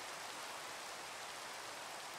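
Rain falling in Minecraft (Sky Factory 4), a steady, soft, even hiss of rainfall with no other sounds and no voices.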